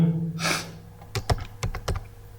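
Typing on a computer keyboard: a short burst of several quick, close key clicks after a soft rustle, with no talking.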